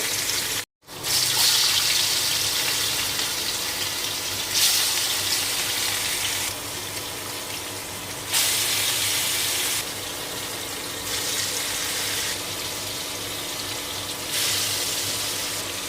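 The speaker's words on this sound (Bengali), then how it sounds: "এখন আমি তেলের মধ্যে দিয়ে দেব মাছগুলো" Spice-coated rohu fish pieces go into hot oil in a kadai: after a brief pause a loud, hissing sizzle bursts up and carries on in long surging waves, rising and easing as the pieces are turned.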